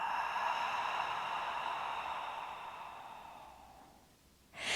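A long, steady breath out through the mouth during a Pilates breathing exercise, close and soft, fading over a few seconds before a fresh breath begins.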